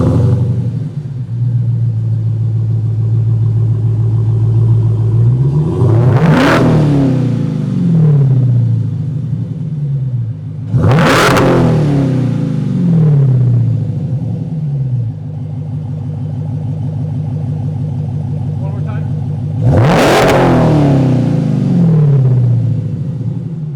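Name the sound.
Dodge Hellcat Challenger engine revving with stock exhaust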